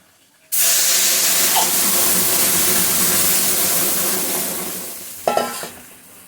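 Dal poured into a hot spice tempering sets off a sudden loud hissing sizzle that slowly fades over several seconds, followed by a brief clatter of a utensil near the end.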